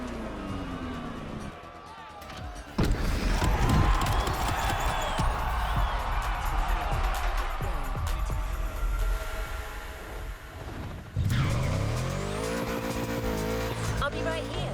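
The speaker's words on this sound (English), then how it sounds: "Wonderful to see this car taking over the roads of Maui." A car in The Crew Motorfest drives the roads of Maui with a steady engine drone, some tire squeal and skidding, and a sudden louder surge partway through. A voice talks over the driving.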